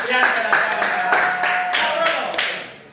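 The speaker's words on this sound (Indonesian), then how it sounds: "Oke, mari tepuk tangan untuk ini." A classroom group claps together in a steady rhythmic beat, close and fairly loud, for about three seconds, with students' voices murmuring underneath.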